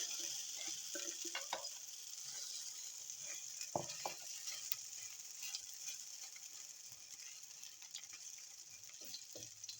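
A bread, egg and grated carrot mixture fries quietly in a pan over low heat, a soft continuous sizzle with scattered clicks and scrapes, faint and with no talking.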